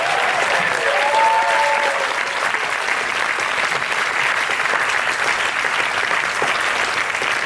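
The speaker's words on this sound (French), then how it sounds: "Please give him a warm applause" Sustained, even applause fills the room at the Cannes 2023 Semaine de la Critique closing ceremony as the crowd greets Thomas Rousseau, with a faint tone briefly ringing out near the start.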